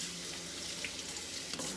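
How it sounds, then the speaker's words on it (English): Water runs steadily from a kitchen faucet fitted with a shower-like spray head into an orchid pot, a close, even splashing hiss lasting under two seconds with no talk. "So I just pour the water, and then I water my orchids every week."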